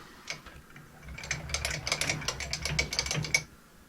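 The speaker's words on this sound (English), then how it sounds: "Now we're down to the final pass, and we're using a fine power feed to get a good finish" A metal lathe on fine power feed takes a final finishing pass while building a heavy-duty knurling tool swivel pin, giving a quick series of close mechanical ticks and gear clatter for a few seconds, then fading out.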